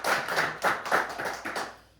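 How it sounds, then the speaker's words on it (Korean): A church congregation applauds together in a short, dense round of clapping that swells and then fades within a couple of seconds, heard alone without speech. "우리 부활하신 주님께 우리 다 같이 영광의 박수 올려드리겠습니다"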